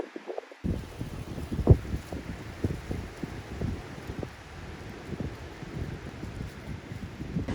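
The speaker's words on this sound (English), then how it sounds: "So apparently, the wind is blowing 24 miles per hour right now in a southerly direction." Wind gusts and buffets across a park trail, rumbling low and uneven in repeated irregular bursts close to the microphone, with a faint rustle underneath and no voices.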